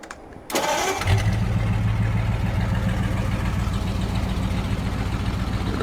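A tractor engine in Farming Simulator 22 cranks briefly, then catches and settles into a steady, loud, low idle that runs on alone with no talking.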